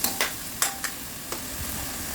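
Tomatoes sauté in a hot pan with a steady low sizzle, broken by a few sharp scrapes and knocks of a spoon stirring against the pan, close up.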